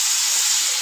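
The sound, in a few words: water added to hot pan with cumin, chili and turmeric powder, sizzling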